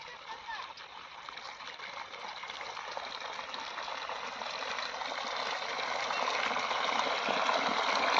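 Irrigation water gushes from a running pump motor into channels on a farm plot sown with coriander, a steady close rushing flow that swells gradually louder over several seconds.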